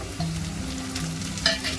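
Sliced small onions (shallots) fry in a pan for a mutton liver dish, giving a soft, steady sizzle with a brief stirring scrape; no voices.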